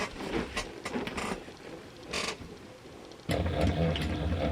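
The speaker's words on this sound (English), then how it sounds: "I'm not sewing these clipped edges. I'm only sewing the top." A sewing machine stitching a quarter inch seam along the top edge of fabric, short mechanical whirring bursts that start and stop, then a louder continuous run near the end.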